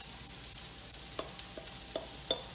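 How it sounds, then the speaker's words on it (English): Leftover marinade is poured into a hot pan of pork tenderloin, with a steady sizzle hissing throughout and a few sharp crackles and pops spaced across the final second. "I'm going to put the rest of the marinade in."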